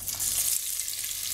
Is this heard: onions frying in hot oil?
yes